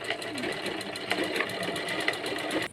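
A sewing machine stitches a frock, a steady, fast mechanical whir with a regular needle rhythm running close and continuous for nearly the whole stretch, stopping abruptly just before the end.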